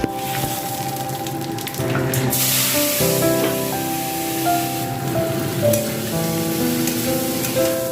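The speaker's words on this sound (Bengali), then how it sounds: "ভাতের যে ফ্যানটা ওটা আমি গড়িয়ে নিচ্ছি" Starchy water poured off a pot of freshly cooked rice gives a steady splashing hiss, with a continuous tonal backdrop running beneath it.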